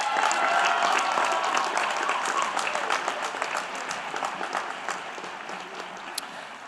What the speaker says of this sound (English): Please join me in applauding these great people